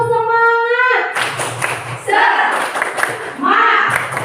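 A group performing a rhythmic clap-and-chant cheer at a positive-culture school session, with a sung cue followed by bursts of clapping and voices calling out together, moderately loud and close.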